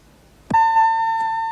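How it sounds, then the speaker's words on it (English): A 1982 TV game show contestant buzzer sounds once as a loud, clean electronic tone, sustained for about a second and alone. "let's just check that your buzzers are working"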